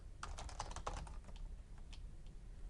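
A password is typed on a computer keyboard during a software install, with a quick run of close key clicks followed by a few scattered, sparser taps, and no talking.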